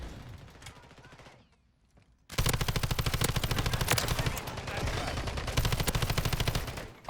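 A Kastov LSW light machine gun in MW3 multiplayer fires a long, loud, rapid sustained burst after a quiet moment, each round cracking in a fast steady rhythm, with a voice faintly heard before it.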